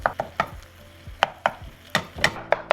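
Ground meat browning in a pan for a quick Instant Pot meal, broken apart with a utensil: a steady low sizzle under sharp, irregular scraping and chopping knocks, close and fairly loud, no talk.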